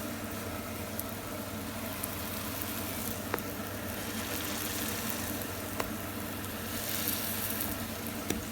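Hotteok dough fries in oil in a pan, giving a steady soft sizzle with a low background hum and a few faint clicks, quiet and alone.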